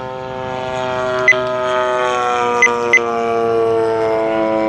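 The 35cc Gilmore Red Lion gas engine on a Seagull Models RC airplane with a 74-inch wingspan drones steadily in flight just below half power, a loud, even buzz with a few brief clicks.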